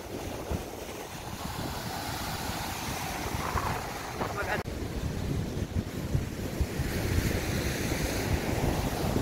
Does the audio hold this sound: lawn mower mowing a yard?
no